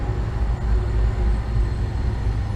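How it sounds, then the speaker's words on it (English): A train rumbles past at a steady distance, a continuous low roar holding level without breaks. "train goes by"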